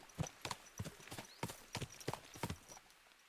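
A horse's hooves clip-clop at a walking pace in the video game Kingdom Come Deliverance 2, with about a dozen distinct, evenly spaced strikes, fairly close and quiet.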